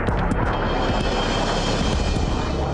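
A loud, steady roar from an F-117 Nighthawk jet aircraft fills the whole stretch as a dense, even rush with faint higher whines on top and no talking.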